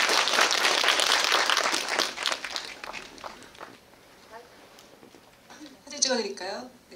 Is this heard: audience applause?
yes